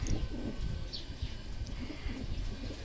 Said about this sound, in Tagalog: Nagpatak-patak na yung pauwian ng mga huling ibon natin.